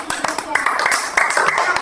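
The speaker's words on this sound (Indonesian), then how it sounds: "tepuk tangan untuk kelompok B" Hands clap in uneven bursts in a primary school classroom to applaud a group of pupils, with speech mixed in throughout, close and fairly loud.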